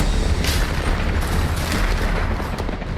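Deep, continuous rumbling booms from a Russian strike on Kyiv, heavy low-end roar with no clear single blast, sustained and loud throughout.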